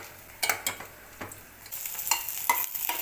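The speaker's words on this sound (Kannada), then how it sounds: "ಚೆನ್ನಾಗಿ ಫ್ರೈ ಮಾಡಬೇಕು. ಹಿಂಗೆ ಫ್ರೈ ಆಗ್ತಾಯಿದೆ." Garlic and spices for bitter gourd palya fry in a pan with a soft sizzle, punctuated by several distinct scraping stirs and light spoon taps close by.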